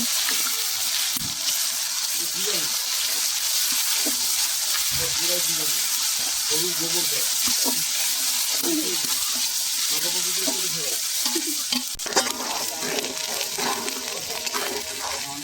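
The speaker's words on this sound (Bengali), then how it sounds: "মশলাটা আমরা ভালো করে ভেজে নিচ্ছি।" Ginger, garlic and cumin paste frying with onions for a spicy chicken curry, a continuous hissing sizzle throughout with intermittent stirring scrapes, close and steady.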